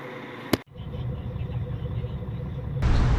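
A bus engine idles with a low, steady rumble from inside the vehicle at night, preceded by a sharp brief knock and building slightly louder toward the end.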